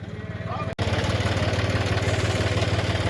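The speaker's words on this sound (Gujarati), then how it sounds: "ટ્રેક્ટર પછી ભાગ્યું છે બીજા ઓળાને લેવા" A tractor pulls away across a sandy seashore after launching a small boat, its engine a loud, close, steady low throb with a brief dropout near the start before the rumble resumes evenly.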